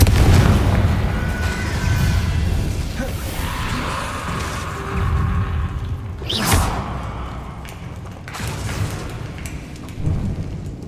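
Confringo blasting spell explosions in Hogwarts Legacy: a deep, rumbling boom rolls on continuously, with a sharper blast burst near the middle and a swell of heavy low-end noise, loud and near.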